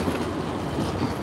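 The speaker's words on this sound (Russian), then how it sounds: "Еще трамвайчик поехал в депо." A tram in Riga rolling off toward the depot, a close, continuous low rumble of wheels on rail with a faint clatter, no voices over it.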